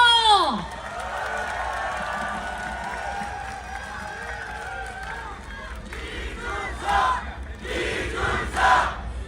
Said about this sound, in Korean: 여러분 큰 박수와 함성 주시겠습니까?